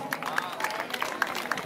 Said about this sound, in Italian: Un bel applauso per lo strano trio.